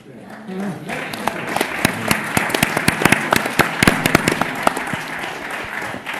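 An audience applauding panelists at a community event for young men, dense clapping building from quiet to loud with sharp individual claps standing out, sustained throughout with voices faint underneath.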